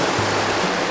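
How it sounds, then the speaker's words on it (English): Raging little creek in western Montana, running at about twice its usual size: a loud, steady broadband rush of water right at the microphone, with no voices. "Right off the bat, I had to cross this raging little creek."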